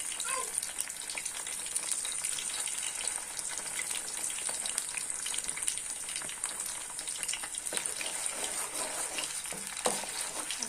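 Ginger and garlic paste fries in a pan with a constant soft, hissing sizzle, occasional faint stirring clicks, and no talking.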